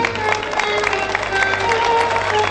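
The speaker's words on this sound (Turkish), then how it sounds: "Sevgili başkanım özel alkış istiyorum." An audience applauds at a Turkish folk poetry recitation, with a steady wash of clapping and some crowd noise heard over sustained background music.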